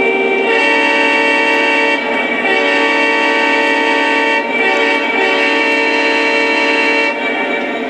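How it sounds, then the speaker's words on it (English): A Lionel model train locomotive's horn, sounded by a Lionel SD70ACE lashup where only the Katy engine responds, blows loud and steady in long sustained chordal blasts with brief breaks near two, four and seven seconds, no talking. "But watch what happens if I blow the horn now."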